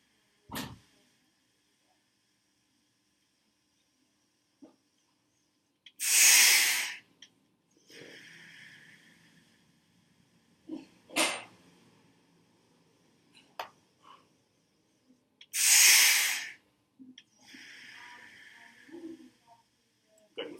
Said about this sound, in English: We're going to push through the next 10 breaths